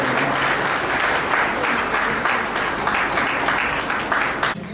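A crowd at a museum inauguration claps steadily and loudly for an honoree, with dense sustained applause for several seconds before it cuts off.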